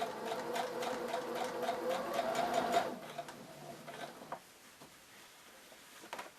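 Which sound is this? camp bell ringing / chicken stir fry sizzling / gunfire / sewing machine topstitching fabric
sewing machine topstitching fabric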